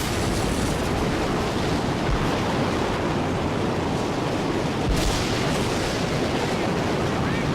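Wind blows hard in a Mad Max storm, a steady, loud roaring rush with gusty rumble that never lets up, close to the mic, with no talking.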